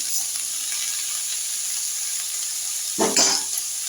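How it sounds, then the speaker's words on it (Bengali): Vegetables for a paneer dish fry in a pan with a steady soft sizzle, then a louder burst of stirring and scraping near the end, no speech. "সবজিগুলো ভালো করে নাড়াবো চাড়াবো"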